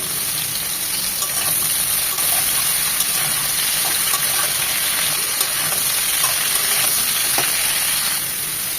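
Cauliflower frying in a pan, a steady, bright hiss of oil with faint scattered crackles and the odd soft stir, continuous and close throughout.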